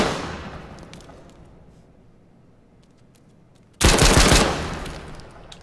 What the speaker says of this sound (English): Can you shoot these pallets for me?